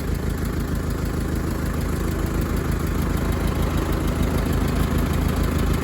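The engine of a tractor loader idles steadily nearby, a constant low mechanical rumble with an even pulse. There is no talk over it.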